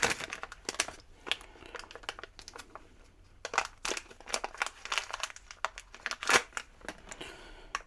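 ProBolt motorcycle bolt packaging for an RS660 being cut open, close crinkling and crackling of plastic with short sharp snips and rustles in irregular bursts, quiet and without speech.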